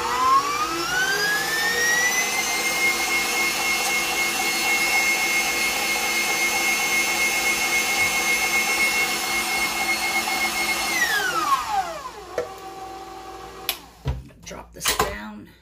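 An electric mixer beats cake icing with powdered sugar: its motor whine climbs in pitch, holds steady for about nine seconds, then winds down, followed by a few clanks and knocks.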